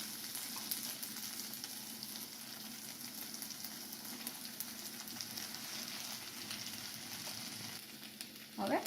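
Potatoes go into a pan of sizzling fried onions for masala dosa filling, giving a steady, dense frying hiss throughout with a brief scrape of stirring near the end.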